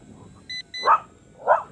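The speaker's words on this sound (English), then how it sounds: "The dog does not like it at all." A dog barks twice at a flying RCERA C127AI brushless RC helicopter, two sharp, loud, close barks about half a second apart, preceded by short electronic beeps.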